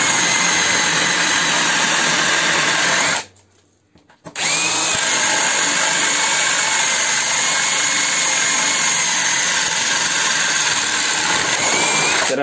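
A loud, close Parkside Performance PSBSAP 20-Li A1 cordless hammer drill with a 25 mm spade bit whines steadily boring through wood, stops briefly, then resumes and runs continuously at full speed.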